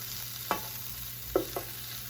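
Brussels sprouts fry quietly in a pan over medium heat under a soft steady sizzle, broken by a few short scraping knocks as they are stirred and flipped.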